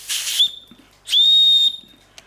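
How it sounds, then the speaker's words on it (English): Two shrill blasts from a small plastic survival-kit whistle, the first short and the second longer and steady, close and loud with a brief pause between. "We have this little object here. Pretty crap whistle"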